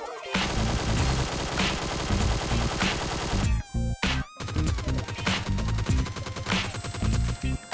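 QBD and G36C rifles firing at targets in PUBG Mobile, with long loud full-auto bursts broken by brief pauses between strings, each shot rapid and punchy, with no talking.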